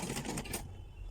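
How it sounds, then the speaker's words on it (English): Sewing machine stitching an invisible zipper, a quick burst of rapid mechanical needle clatter for about half a second, then stopping into quiet room tone. "I'm just going to sew it straight until I get to this point here."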